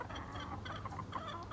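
Backyard chickens cluck softly and continuously, several close, murmuring calls overlapping over a steady low background hum.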